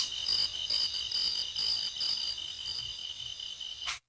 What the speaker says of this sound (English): I put in some like crickets chirping or something